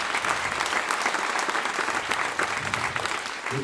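Loud, dense applause from a theatre audience after young musicians perform, a continuous wash of many hands clapping close by, steady for the whole stretch.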